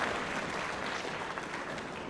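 Steady, fairly faint applause from a group at a school orchestra concert, an even patter of clapping with no voices standing out.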